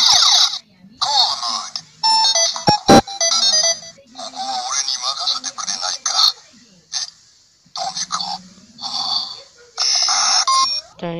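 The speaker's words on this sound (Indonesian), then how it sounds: "Dan itu suara dari partner Go Buster Biru." Set to call mode, a Go-Buster DX Morphin Brace toy plays a recorded voice clip of the Blue Go-Buster's partner, with tinny electronic speech, ringing chimes and beeps in short, loud bursts.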